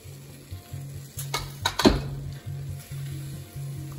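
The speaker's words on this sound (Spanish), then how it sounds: "ahora aquí ya es momento de agregar la mezcla que molimos en la licuadora" A sauce blended in a blender is poured into a hot pan while making arroz a la poblana, bursting into a loud sizzle with a brief surge of splashing and stirring, then settling to a steady fry.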